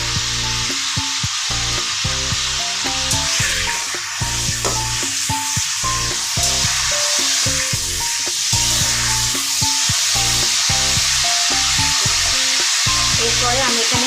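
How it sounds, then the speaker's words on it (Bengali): Chicken fries with bay leaves and whole garam masala in a continuous, fairly loud hiss under rhythmic background music. "এর মধ্যে আমি 2টো তেজপাতা আর গোটা গরম মশলা দিয়ে দেবো।"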